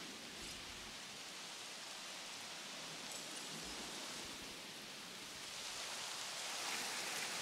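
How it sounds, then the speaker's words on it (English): Steady rain in Jurassic World Evolution, a soft, even hiss of falling water with no breaks, faint and continuous, alone without voices. "It's very rainy right now."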